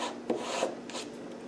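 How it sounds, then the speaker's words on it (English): An image transfer is rubbed across journal paper, a continuous close scratchy rasping with a few stroke-like swells, no talking. "Give it another rub all the way across."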